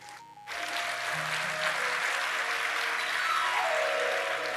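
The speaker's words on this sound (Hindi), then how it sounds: "जितना हो सके उतनी तालियां बजाओ।" After a brief quiet moment, a large audience at a Hindi religious discourse claps steadily and evenly, the sound fairly soft and continuous to the end.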